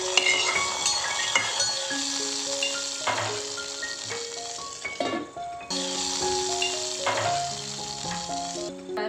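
Tempering (tadka) sizzles as it is poured into rasam (charu) with mutton keema nearby, a steady bright hiss lasting the whole stretch with a brief dip midway, under tonal background music.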